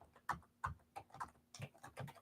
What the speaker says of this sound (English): let me just type some things in here.